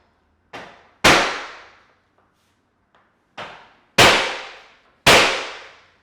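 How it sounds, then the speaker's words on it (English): A hammer strikes a mirror glued to a wall during a budget home remodel, giving five sharp, loud cracking impacts with ringing decays, two light ones then three heavy blows, with no talk. "Hit the mirror with a hammer and nothing happened."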